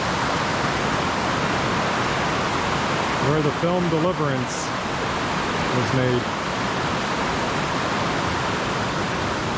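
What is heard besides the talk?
Lick Log Falls waterfall flowing into Chattooga River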